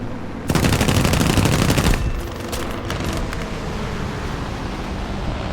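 The H-81A-2 aircraft fires its machine guns in War Thunder air arcade, a loud rapid burst of about a second and a half over a steady engine roar that keeps droning after the firing stops.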